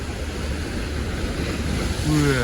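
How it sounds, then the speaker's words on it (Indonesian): Big ocean waves break and wash along the beach at Merak island, a continuous rushing surf with wind buffeting the microphone and a brief low engine-like hum near the end. "Ombak gede sih emang di sini."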